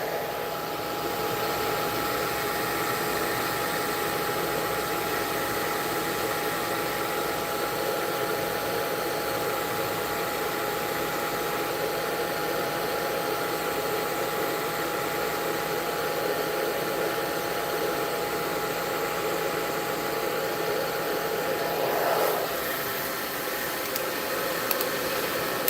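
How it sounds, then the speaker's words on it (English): Thrift-store heat gun running continuously, a steady, loud airy whir with a constant motor hum, close and unbroken for the whole span, with only a brief small knock near the end. "super fancy heat gun."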